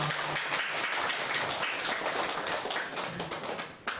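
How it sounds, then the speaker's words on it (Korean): Congregation in a Korean Sunday morning church service applauding after the choir's hymn, a steady dense wash of many hands clapping throughout, fairly loud and close, with a brief louder flurry near the end. "박수로 하나님께 영광 돌리겠습니다."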